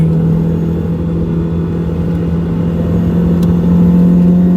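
Steady interior drone of a Toyota MR2 Spyder cruising on stock 15-inch wheels, a constant engine hum and road rumble with no speech.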